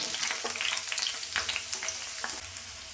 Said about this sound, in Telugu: ముందుగా స్టవ్ మీద ఒక ప్యాన్ పెట్టుకొని 1 టీ స్పూన్ అంతా ఆయిల్ వేసుకొని 2 మీడియం సైజు ఆనియన్స్ని ఇలా ముక్కలుగా కట్ చేసి వేసుకోండి.